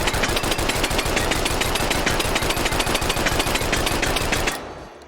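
Rapid automatic gunfire from a submachine gun in the H3VR virtual reality shooter, a loud, steady stream of shots lasting several seconds before cutting off abruptly, leaving a faint mechanical tail.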